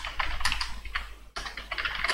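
Rapid keystrokes from code being typed on a computer keyboard while scripting a Maya Python auto-rigging tool, a close, steady clatter of clicks that pauses briefly midway before resuming.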